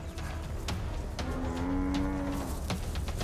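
African buffalo cows bellow as they rally against lionesses, a single drawn-out low moo rising over a rough, constant background of wind and rustling, heard fairly close.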